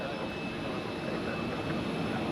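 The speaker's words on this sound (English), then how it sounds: "First up is the United Boeing 767 to Washington" A United Boeing 767 jet departs runway 16 at Zurich airport, and its engines give a steady, broad roar at moderate distance with no pause.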